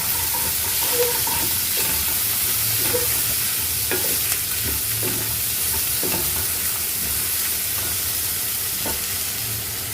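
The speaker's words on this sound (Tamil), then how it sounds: "இது நல்லா வதங்கணும் தக்காளிலாம் கொஞ்சம் நல்லா வதங்கணும்" Tomatoes sautéing in a pan for mint chutney, a continuous close sizzle with frequent soft scrapes and taps of a spoon stirring, steady throughout and free of talk.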